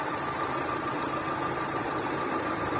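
Opel Vectra B car engine idling after its cooling system is refilled and bled, a steady, close mechanical hum with an even rumble and a faint constant whine, with no talk over it.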